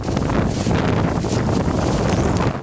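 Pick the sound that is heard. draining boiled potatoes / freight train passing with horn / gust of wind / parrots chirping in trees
gust of wind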